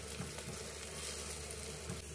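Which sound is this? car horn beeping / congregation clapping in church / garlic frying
garlic frying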